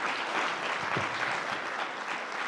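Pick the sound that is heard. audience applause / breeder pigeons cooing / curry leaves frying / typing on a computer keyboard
audience applause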